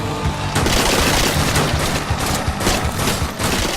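Rapid SMG fire in the zombie shooter Dead Nation, a dense, continuous rattle of bursts with booming impacts and game noise, loud and unbroken, with no speech.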